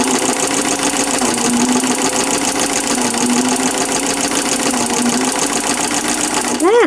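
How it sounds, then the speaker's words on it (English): Sewing machine fitted with a ruffler attachment runs steadily under foot-pedal control, a loud continuous mechanical whir with rapid rhythmic stitching clatter throughout, ending abruptly. "I'm going to go ahead and hit the foot pedal"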